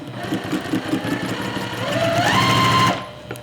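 Sewing machine stitching a quilt seam with a quarter-inch presser foot, a steady rapid mechanical whir that speeds up and rises in pitch near the end before stopping, loud and close with no voices.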